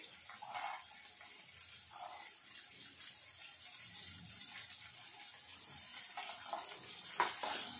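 Chopped onion frying in a pan gives a soft, steady hiss and sizzle, fairly faint and continuous, with a few light clinks near the end.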